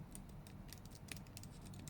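Typing on a Nomade FK328 folding keyboard, done fairly gently: soft, quick key clicks in an uneven patter over a low steady background hum, moderately quiet and close.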